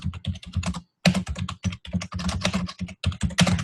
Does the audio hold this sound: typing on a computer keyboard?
yes